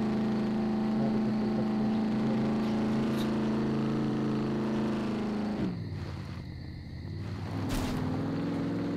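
Car engine driving in the survival video game SCUM, a steady low drone with harmonic hum that drops in pitch midway, then briefly rises again, continuous and fairly quiet with no talk.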